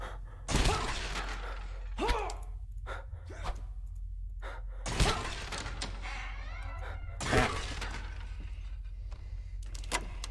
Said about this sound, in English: I heard somebody breathing in there, man.